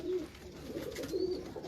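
Faint coos come from a Sialkoti pigeon, part of a loft of Jarpur-breed birds, as a few soft repeated calls against a quiet background, with no speech.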